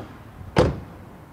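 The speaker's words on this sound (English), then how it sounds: "let's check out the door closing sound" A single solid thud as the door of a 2021 Toyota Yaris 1.5 Hybrid shuts, short and close with a quick fade.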